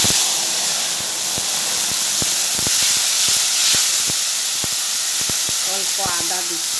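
Tomato paste frying in hot oil, a loud continuous sizzle and hiss with steam, punctuated by sharp spatters and pops close to the pan.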